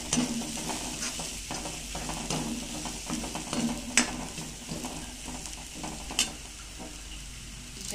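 Sprouted matki masala is sautéed in oil for a curry, with a continuous close sizzle and the scrape of a spoon stirring through it. A couple of sharp clinks of the utensil on the pan stand out.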